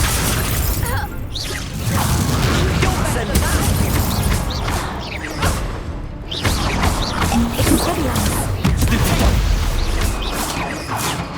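Incendio fire spells are cast in the video game Hogwarts Legacy amid dense, continuous battle effects, with bursts, crashes and whooshes layered under a speaking voice.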